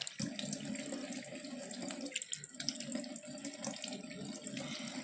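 Tap water runs steadily into a sink while someone wets their face during a skincare routine, a faint continuous splashing stream heard on its own.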